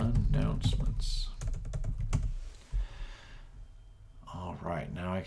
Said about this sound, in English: type in news and announcements.